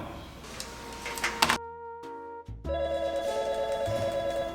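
An office telephone rings in a short comedy film, a buzzing tonal ring pulsing steadily at moderate loudness after a brief quiet gap, with no talk over it.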